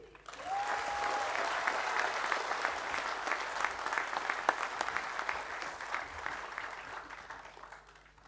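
An audience at a party event presenting National Assembly candidates claps steadily and densely for several seconds, a sustained wash of applause that fades slightly at the end, with no talk over it.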